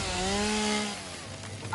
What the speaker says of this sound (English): I do like the chainsaw.